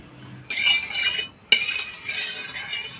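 Ghee hits a hot kadai for jeera rice: two sharp metallic clatters, each followed by a bright hissing sizzle, close and moderately loud, with no talking.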